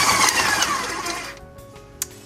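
Stand mixer with a flex-edge blade spinning through chocolate peppermint Linzer cookie dough, a steady whirring motor hum that fades out after a second or so, followed by a faint clack.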